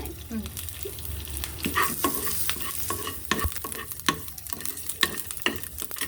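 Green chilies frying in hot oil for a masala dosa filling, giving a steady crackling sizzle broken by sharp stirring taps and scrapes, close and moderately loud, with no voices.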